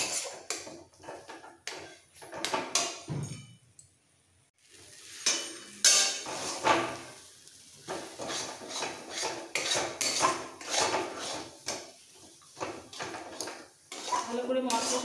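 Spiced potato filling for Bengali egg devil (egg chop) being stirred and fried in a pan, with repeated scraping and clinking of a utensil against metal in irregular bursts, close by, while a voice talks over it.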